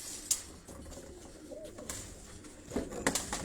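Pigeons at a pigeon fanciers' gathering in Havelian, Hazara: faint, soft cooing from nearby birds, with scattered brief sharper sounds and light background murmur.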